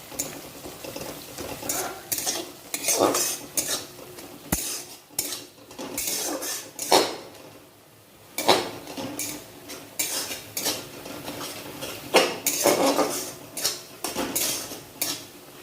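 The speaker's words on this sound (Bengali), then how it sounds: "তারপরে তেল ছাড়া অবধি কষাতে হবে।" Veg paneer masala being stirred and sautéed in a pan until the oil separates, with repeated close spatula scrapes and clinks against the metal over a low sizzle, coming in irregular bursts.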